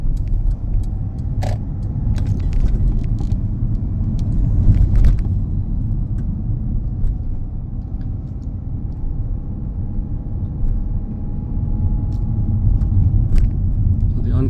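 A car drives along a UK road during a driving test, its engine and tyre rumble steady and fairly loud throughout, with light rattles inside the cabin and no one speaking.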